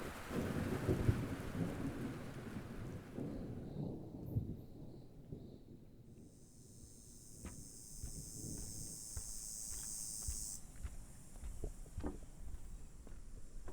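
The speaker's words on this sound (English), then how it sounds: "the day was topped off with this afternoon storm" Afternoon thunderstorm in Costa Rica, with a loud rumbling thunder roll at first that fades into steady rain pattering on surfaces and scattered drips, plus a high insect-like hiss for several seconds.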